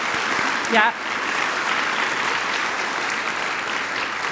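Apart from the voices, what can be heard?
audience applause for award winners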